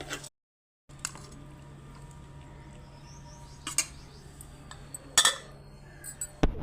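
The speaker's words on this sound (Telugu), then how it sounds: "దీన్ని మనం చక్కగా ఒక డిష్ గిన్నెలోకి తీసుకుందాం" Drumstick and tomato curry being served into a dish bowl, with scattered metallic clinks and scrapes of a spoon against cookware in a quiet kitchen, one sharper burst of clatter near the end.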